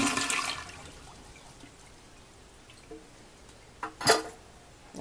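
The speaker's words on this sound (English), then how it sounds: "I need to flush the toilet and hold the handle down" A toilet flushes with a rushing swirl of water that fades into quiet draining, followed by a few gurgles and a short splash near the end.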